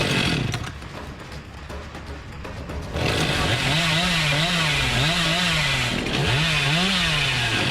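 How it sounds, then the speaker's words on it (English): A chainsaw revving in the video game Dead by Daylight, its engine note rising and falling in repeated surges after a noisier, rougher start, loud and steady throughout. "I am wasting my freaking chainsaw!"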